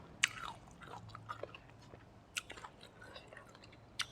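Someone bites into an unpeeled green mango, with a few sharp crunchy bites and soft close chewing between them.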